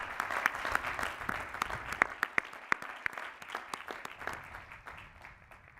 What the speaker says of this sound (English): Please recognize the 2021 Doctors of Philosophy with our hearty congratulations and applause.